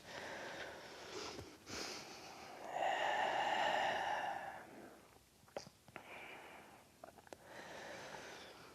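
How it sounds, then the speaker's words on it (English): Slow, deep breathing during a yoga stretch, with soft nasal inhales and longer airy exhales, quiet and close, spaced out over several seconds with no speech. "Let's take about 3 to 4 more slow, deep breaths here."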